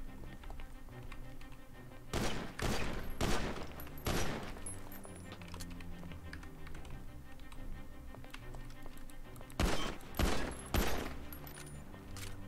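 Video game gunfire aimed at a vault door during a heist at night: two clusters of rapid close shots, the first around a couple of seconds long and the second shorter, separated by a quieter stretch.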